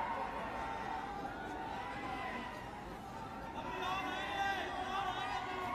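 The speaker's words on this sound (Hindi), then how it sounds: "बहुत सारे लोग आ गए, बहुत भीड़ है" Big crowd at a political rally in Gurdaspur, Punjab, a dense, steady babble of many voices that swells slightly near the end.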